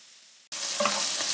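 Tomatoes frying in a pan for Tunisian tastira, a loud, steady sizzle that starts abruptly after a quiet moment and is stirred briefly, close up with no talk.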